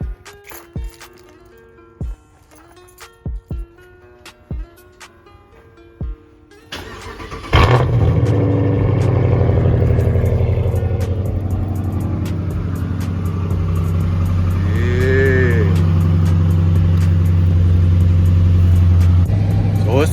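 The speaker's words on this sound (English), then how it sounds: "let me give y'all a little cold start" A few faint clicks, then a car with a newly installed engine cranks and catches on a cold start, settling into a loud steady idle with a brief rev near the end.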